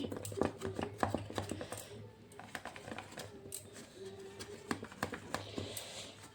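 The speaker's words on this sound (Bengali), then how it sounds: "এখন আমি এটাকে আস্তে আস্তে সাইডগুলো খুলে দিচ্ছি।" A knife taps and scrapes around the edges of a tin of steamed chickpea dhokla, giving irregular close clicks and light scraping against a low background hum, with no talk.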